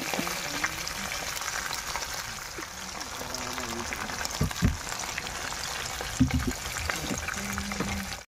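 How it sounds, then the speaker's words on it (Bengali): Fish frying in a pan, a continuous close sizzle with scattered pops and a couple of thumps and clinks from handling. "এদিকে এদিকে মাছ ভাজা যাচ্ছে"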